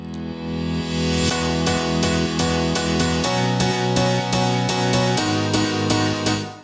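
A reversed piano chord sequence in a house-style remix, each chord swelling up backwards into a sharp cutoff, repeating in a steady rhythm over a sustained bed with no voices.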